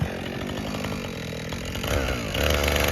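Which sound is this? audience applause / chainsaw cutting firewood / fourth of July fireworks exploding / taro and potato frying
chainsaw cutting firewood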